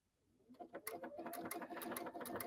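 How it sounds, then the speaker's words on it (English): A sewing machine stitches sideways in a steady rapid run, starting softly and settling into an even mechanical chatter, close and fairly quiet with no talking. "you can see I'm sewing sideways"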